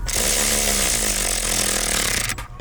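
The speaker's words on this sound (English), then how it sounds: "So just control your pulse if you're gonna use impact tools." Impact wrench driving the blower motor bolts on a 2003 vehicle, a loud continuous buzzing whir that runs steadily for over two seconds and then cuts off abruptly near the end.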